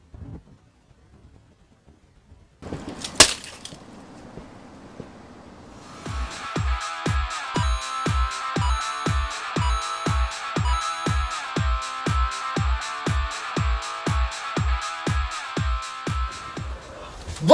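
A Panasonic Lumix FZ100 camera from 2010 is smashed in a long run of evenly spaced sharp impacts, about two per second, loud and close, after a brief clatter and a quiet lead-in.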